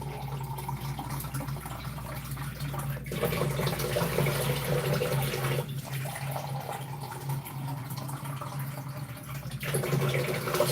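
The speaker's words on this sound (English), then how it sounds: "now I'm going to pour the water in, and I'm going to put it to boil" Water is poured into a cooking pot holding pineapple skins, a steady, fairly loud pouring and splashing that runs continuously for about ten seconds, with a few brief pauses and no talking.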